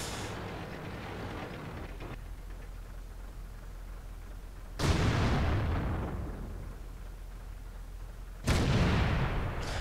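Two heavy tank cannon shots boom out in World of Tanks, a French tank battle, each a loud sharp blast that rolls off slowly over a constant low engine rumble, spaced several seconds apart.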